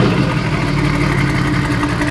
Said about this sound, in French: Le démarrage, ils ont mis du pop and bang.